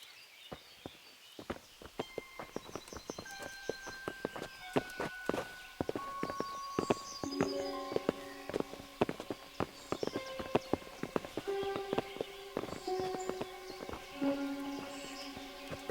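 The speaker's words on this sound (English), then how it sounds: "Bring the horses." Horse hooves clip-clop at a steady walking pace in a medieval video game, irregular knocks mixed with light footsteps, with sustained musical score tones running throughout.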